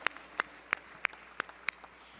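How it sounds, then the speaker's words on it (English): At a charity gala auction, a lone set of hands claps about six sharp, evenly spaced times in a quiet room, each clap distinct and fairly close. "Big round of applause for buyer number"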